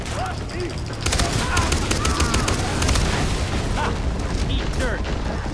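Gunfire in Far Cry 3, a dense chatter of rapid shots and bursts with scattered booms, mixed with game noise while a person talks excitedly over it.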